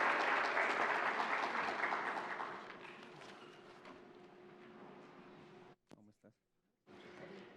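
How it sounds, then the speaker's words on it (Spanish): Welcoming applause from an audience at an official event of Colombia's Contraloría, a dense burst of clapping that gradually fades and thins before speech begins. "Para ellos, un aplauso de bienvenida"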